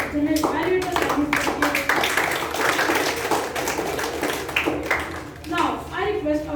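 An audience at a youth leadership meeting claps steadily for several seconds, a dense, close patter of hands with no pause.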